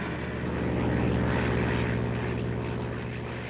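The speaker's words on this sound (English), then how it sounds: "You see that plane?" A propeller airplane drones steadily overhead, a loud continuous engine roar that swells slightly and holds through the clip, heard alone with no talking.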